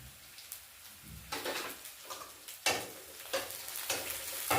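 Chopped capsicum added to frying onions in a pan, quiet sizzling that swells in bursts as the spatula stirs and scrapes, with soft taps between.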